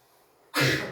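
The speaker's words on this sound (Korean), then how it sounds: "아우 기침 나네." A single sudden cough or throat clear from a teacher during a classroom lesson, close and fairly loud after a quiet room-tone lead-in.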